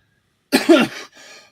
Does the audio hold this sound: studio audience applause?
no